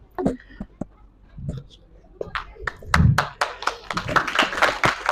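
An audience at an Igas festival event applauds. Scattered claps and taps under nearby talk build into denser, louder clapping toward the end.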